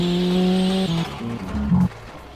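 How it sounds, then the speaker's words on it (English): Car engine in the Automation car-building game, fitted with a race turbo, starting up with a steady drone that steps down through several pitches before settling into a lower idle, loud and alone. "Let's start the engine."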